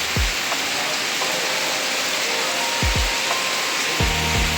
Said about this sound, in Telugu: బయట అంతా వర్షం పడుతుంది.